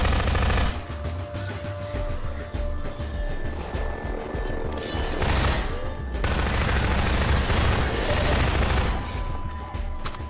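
Half-Life 2 gunfire against Combine soldiers: loud, dense bursts of rapid shots crackling almost continuously, with heavy low rumble underneath and brief lulls between volleys.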